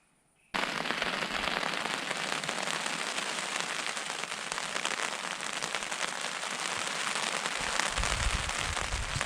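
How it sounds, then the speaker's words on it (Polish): Rain sets in at a solo night bivouac, a dense, even patter on the surroundings that starts abruptly and keeps falling steadily, fairly soft and close. "No i tuż przed snem rozpadało się."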